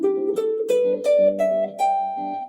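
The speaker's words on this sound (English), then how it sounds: "So if I play this pentatonic scale, the major pentatonic scale, it sounds like this" A major pentatonic scale rises note by note on a plucked instrument, a short, clear run of distinct pitches played close and alone.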